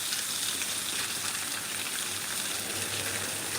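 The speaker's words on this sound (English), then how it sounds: "the sweet and spicy bacon is cooking a little bit faster" Sweet and spicy bacon sizzles in a pan under a weight, a constant, even hiss of spattering fat at close range with no talk.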